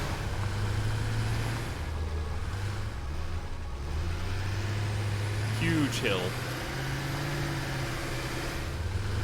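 Autonomous trucks in the factory-building game Satisfactory give off a steady, loud low engine drone whose pitch rises and falls as they climb. Someone talks briefly over the rumble.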